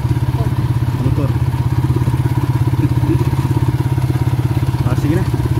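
A motorcycle engine runs steadily throughout, a loud, close, pulsing drone with faint clatter over it and no talk.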